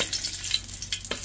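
Bay leaves and two or three dried chillies fry in oil with a dense, crackling sizzle and brief stirring scrapes, close and fairly loud with no talking.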